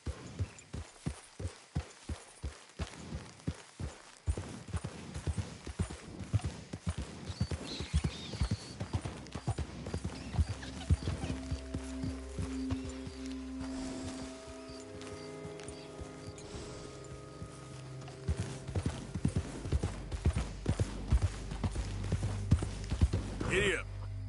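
Horse hooves clip-clopping and galloping in Red Dead Redemption 2, a steady rhythmic run with an occasional snort or whinny, close and fairly loud under a voice urging the horse on.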